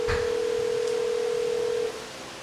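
A telephone call rings out as a single sustained tone for about two seconds before cutting off, loud and close with no talking over it.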